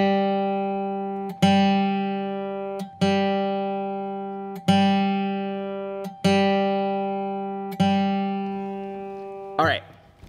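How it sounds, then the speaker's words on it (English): Slow guitar notes picked one at a time on the third string with alternating down and upstrokes, six evenly spaced plucks each ringing out and decaying before the next, clear and close, with a brief scrape at the end. "let's check our sound by slowly playing on the third string, alternating down and upstrokes"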